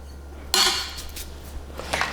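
Flour being mixed into gooey butter cake batter in a bowl, a sharp clatter of utensil against the bowl followed by softer scraping and stirring sounds, close up over a low steady hum.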